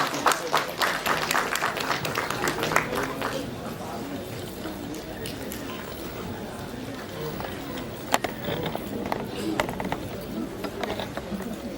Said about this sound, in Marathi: एकदा जोरदार टाळ्या कलाकारांसाठी झाल्या पाहिजे चित्रपटाच्या